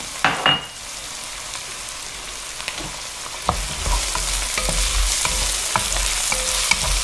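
Chilli and garlic fry in a pan for a chicken curry, the sizzle building louder after a few early clatters, with occasional utensil taps and scrapes over the steady hiss.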